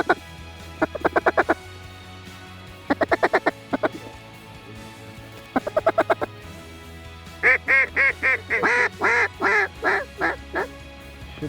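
Ducks quacking during a waterfowl hunt in Ontario: short bursts of rapid quacks recur, then a longer, louder run of quacks near the end, over a low steady background hum.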